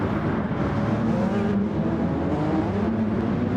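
Porsche LMP1 prototype race car in Gran Turismo Sport at Suzuka, its hybrid engine droning steadily at high revs with a continuous whir, loud and close throughout with no voices.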